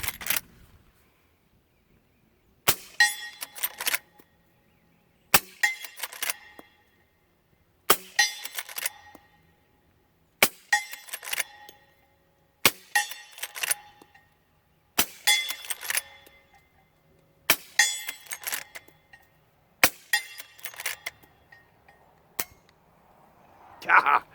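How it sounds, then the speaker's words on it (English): A suppressed Henry Big Boy X Model lever-action rifle fires .38 Special rounds outdoors: about ten sharp, muffled cracks spaced a few seconds apart, each followed by the metallic clack of the lever cycling. "Now we've got 8 more of these 38 specials. Let's go ahead and send these"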